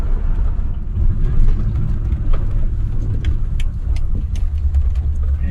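A Land Rover Discovery 1 on the move gives a steady low engine and road rumble from inside the cabin, with faint knocks and rattles and no talking.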